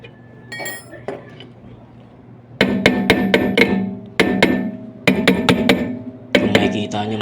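A hammer strikes the top of a car brake drum in quick bursts of three or four sharp metallic clanks with short pauses between them, close and ringing, after a few quieter taps.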